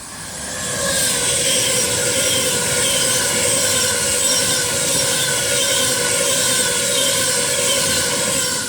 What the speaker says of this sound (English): So now coming through is an Avanti West Coast Class 390 Pendolino to Preston